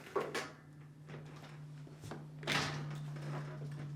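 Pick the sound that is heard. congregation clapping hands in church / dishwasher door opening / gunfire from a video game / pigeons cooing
dishwasher door opening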